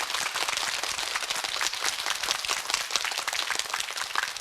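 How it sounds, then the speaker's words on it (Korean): Dense, steady applause from an indoor concert-hall audience at an education lecture event, continuous broadband clapping filling the whole stretch without gaps. "큰 박수 부탁드리겠습니다."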